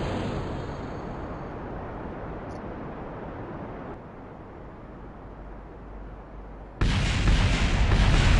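Continuous roaring rumble of explosions in Kerbal Space Program on PS5, loud and broadband throughout, easing slightly midway before a sudden, louder burst near the end, with no talking.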